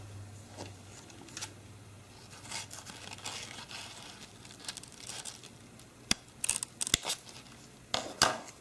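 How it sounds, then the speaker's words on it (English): Quiet crinkles and rustles of ribbon being handled, then several crisp snips of scissors trimming off extra ribbon near the end, close and soft, with no talking. "so I'm just going to go ahead and trim that up."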